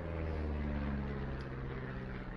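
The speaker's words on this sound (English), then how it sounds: "Oh, the planes are here." Aircraft engines drone steadily overhead as planes arrive in the video game Firewatch, a loud continuous low hum with layered tonal bands and no talk.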